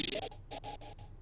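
A transition hit sample from a trap pop beat opens as a bright, noisy burst and is followed by three or four quick, choppy stuttered repeats that fade out within about a second.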